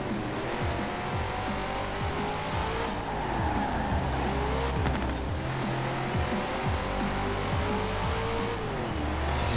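A car engine revs hard and continuously in Forza Horizon 4, a loud, high-pitched racing drone rising and falling through gear changes, with tire squeal and skidding during a gymkhana event, no talk.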